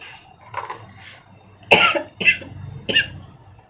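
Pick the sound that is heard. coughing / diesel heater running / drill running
coughing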